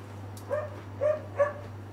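Dogs barking during a tabletop wargame session, three short muffled barks spaced about half a second apart, faint and somewhat distant over a steady electrical hum.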